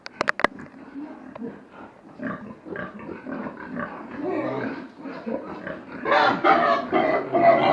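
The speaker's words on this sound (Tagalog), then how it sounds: "Ito po ang inahin dito." Pigs on a farm, with a sow among them, grunt and squeal in a rough, irregular series that grows louder near the end, close by, mixed with a sharp knock at the start.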